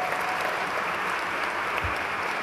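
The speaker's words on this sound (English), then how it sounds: "let's give him a round of applause" Applause from a conference audience at a Tech·Ed North America 2011 session, a steady broadband clatter of many hands held at an even level throughout, with no talk over it.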